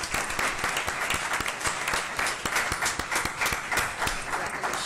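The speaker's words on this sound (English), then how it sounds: "Williams a round of applause, please." Dense applause at a Jackson Public Schools board of trustees meeting honoring Ms. Williams: many hands clapping at once, steady and moderately loud, with sharper individual claps popping out of the wash throughout.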